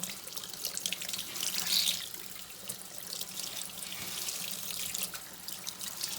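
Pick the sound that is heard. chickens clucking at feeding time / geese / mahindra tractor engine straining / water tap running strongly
water tap running strongly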